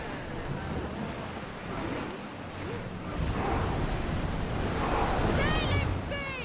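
A ship sails across ocean waves in Assassin's Creed Odyssey, with continuous rushing surf and wind that grow louder halfway through and a few faint high calls near the end.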